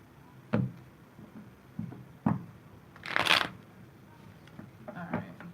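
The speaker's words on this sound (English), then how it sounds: "one more shuffle" Playing cards being shuffled during a tarot-style reading: several separate riffle bursts spaced a second or two apart, with one longer, brighter riffle in the middle, close and clear with no talking.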